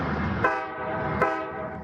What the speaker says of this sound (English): Twice a day, freight trains rumble by just steps from Marion Collins' house on West 21st Street in Minneapolis.